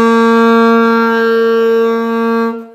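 A saxophone sustains a single steady, loud, bright tone close up for over two seconds, then fades out at the end.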